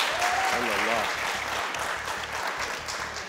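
Clapping from a studio audience on a cricket talk show, answering a poll about which PSL team won, sustained and fairly even throughout, with a voice briefly audible over it near the start.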